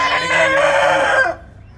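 A chicken gives one loud, close crow, holding the call for over a second before it cuts off into near quiet.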